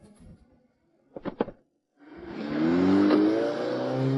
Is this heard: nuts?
no